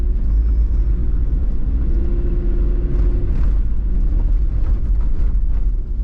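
A car rolls along a gravel and dirt track in rural Romania, its steady low engine and tyre rumble loud and close, with no talk over it.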